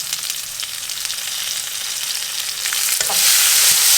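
Sliced onion and tomatoes with chilies hitting hot oil, a loud close sizzle that swells and grows stronger after a few seconds, with stirring and no talk.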